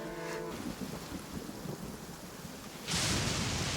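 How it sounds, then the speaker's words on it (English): Rain pours steadily in a video game, with a deep thunder rumble swelling loudly near the end over the continuous downpour. "Many people dread the sound of thunder."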